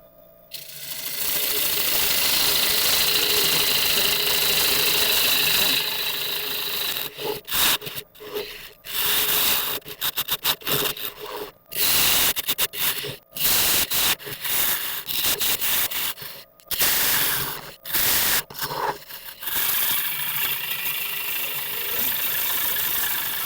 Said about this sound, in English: as I'm pulling the tool back, I'm using that flat edge, and it's acting more of a scraping action